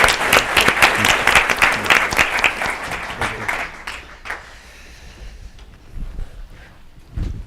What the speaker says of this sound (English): you just did a round of applause for our 3 Democracy Award winners